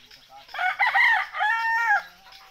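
A desi rooster crows loudly and close by, a drawn-out strained call broken into two parts, with faint farmyard background around it.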